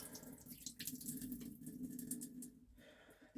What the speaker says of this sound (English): I'm going to drain the water off.